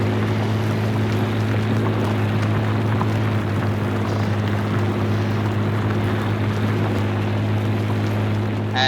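Engine of a 1950s-era tractor pulling a plow in Farming Simulator 19, a steady low droning hum with constant tonal layers, running evenly with no talk.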